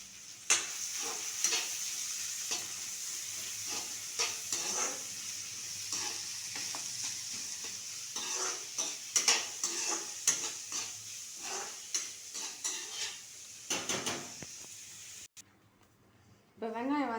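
Finely chopped onions and green chilies sautéing in a pan for vada curry, a continuous close sizzle punctuated by repeated scraping stirs, before it drops off near the end.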